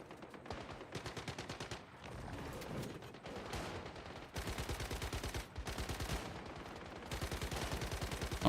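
A Gatling gun in the video game Once Human rattles in long, rapid automatic bursts with brief gaps, loud and close throughout, fired solo against a world boss.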